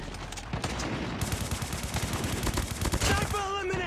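Rapid bursts of automatic gunfire from the mobile shooter game Call of Duty: Mobile, dense and sharp, with a short pause and a brief faint voice toward the end.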